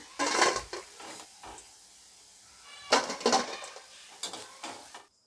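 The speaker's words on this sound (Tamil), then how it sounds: "இப்போ இதை நான் வேறு பிளேட்டுக்கு மாற்றிக்கிறேன்." Fried crispy cauliflower pieces for cauliflower 65 being moved onto a plate, with a few bursts of scraping and clattering against cookware and dishes separated by quiet pauses.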